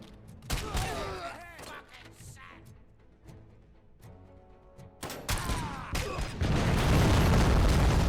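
Rocket launcher fire in the video game RoboCop: Rogue City: loud booming blasts and explosive impacts, with a sustained roaring eruption building toward the end amid scattered game effects.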